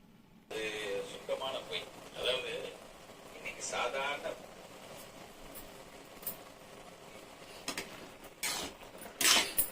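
A lid is set on a cooking pot of carrot halwa, ending in a couple of bright metallic clinks near the end, while a person talks throughout over faint kitchen clatter.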